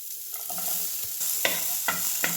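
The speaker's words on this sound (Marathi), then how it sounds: "तर बघा आता त्यातच टाकूया आपण कांदा बारीक चिरलेला" Finely chopped onion sizzling in hot oil in a pan with okra, a steady frying hiss broken by a few sharp scrapes of a spatula stirring the pan, up close with no talking.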